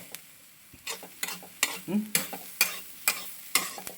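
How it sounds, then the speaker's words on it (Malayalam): Clam meat frying with masala in a pan on a Kerala stove, stirred with a spoon in quick scraping strokes that clack against the metal over a light sizzle, close and fairly quiet. "ഇപ്പോൾ നമ്മൾ എപ്പോഴും ഇങ്ങനെ ഇളക്കി കൊടുത്തുകൊണ്ടിരിക്കും"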